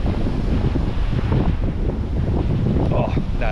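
Ocean surf and strong wind at a beach in Honduras, a continuous loud roar with wind buffeting the microphone and no clear break in the rushing noise.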